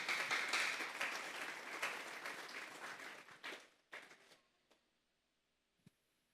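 Church congregation applause during a Spanish-language sermon: dense clapping that starts full, thins out over a few seconds into scattered final claps, then falls to near silence.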